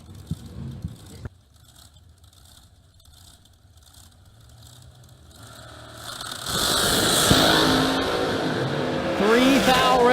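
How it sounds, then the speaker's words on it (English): A drag race car at a $50K bracket drag racing event starts a burnout: a quiet, faint engine idle and scattered noises first, then a loud, sustained roaring rev with tyre screech swelling and holding through the final seconds. "Old Jake Smith does his burnout"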